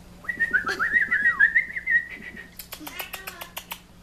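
A pet bird chirps and whistles close by in a rising, warbling run of notes, then gives a rapid series of short sharp chirps, with a person speaking softly in between.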